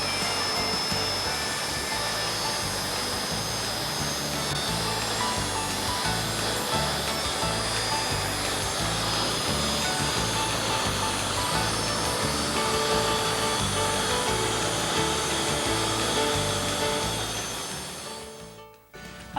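A power saw makes the first cut through a marine plywood bulkhead in a boat cabin, a loud steady whining drone held for nearly twenty seconds before it winds down abruptly.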